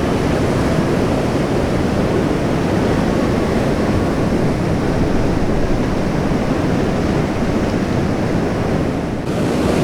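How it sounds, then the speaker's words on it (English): Powerful east-swell waves break along the point at Jeffreys Bay during a kneeboard championship, a continuous loud roar of surf with a brisk offshore wind buffeting the microphone throughout. "Check at those waves coming down the point"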